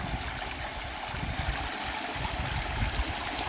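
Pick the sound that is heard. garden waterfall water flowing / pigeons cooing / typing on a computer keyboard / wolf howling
garden waterfall water flowing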